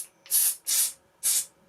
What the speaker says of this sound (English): silicone oil spray,